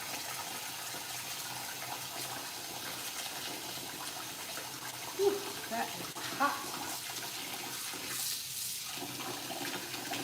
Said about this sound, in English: Yeah, I hear the water running.